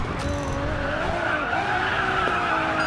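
Tires screech in a sustained skid as a Lamborghini Reventon drifts with the handbrake through S-bend corners in the Racing Master game, loud and continuous with engine drone underneath.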